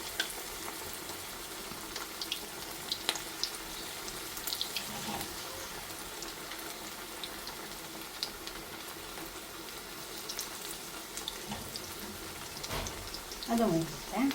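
Chicken pieces frying for chicken lollipop, a steady hiss and crackle of hot oil running throughout at moderate loudness, with a few brief clinks near the end.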